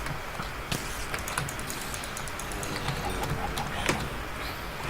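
Chicken clucking in the Minecraft Skyblock game, soft repeated clucks over a steady noisy background with a few brief clicks.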